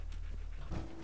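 Dog panting in the video game Fallout 4, a quick rhythmic string of breathy huffs, close and steady over a low game hum, with a short tone near the end.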